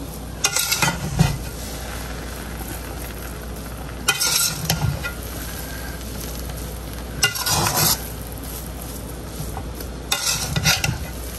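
Cooked rice with whole spices is stirred in a pot for aloo chana chawal, four separate bursts of scraping and clattering against the metal spaced a few seconds apart, close by, with a quiet sizzle between them and no talking.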